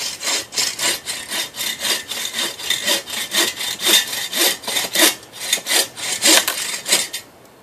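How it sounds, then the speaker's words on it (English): A SVEN folding saw cuts through a piece of firewood in steady back-and-forth strokes, each rasping pull and push close and clear, roughly two strokes a second until it stops. "But I'm already 3/4 of the way through this thing. Rotate it around as much as possible."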